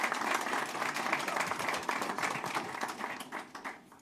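An audience at a school board meeting applauds an OMUN student award winner, a dense burst of clapping that holds steady and then thins out toward the end.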